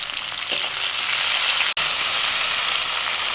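Tomatoes and green chillies fry loudly in hot oil with mustard seeds, a dense, close, continuous sizzle with a brief clatter early and a momentary cut midway.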